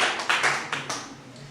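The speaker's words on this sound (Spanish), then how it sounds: "Den un aplauso a Cristo" A church congregation gives a few scattered, separate claps that fade quickly, sparse and close rather than a full ovation.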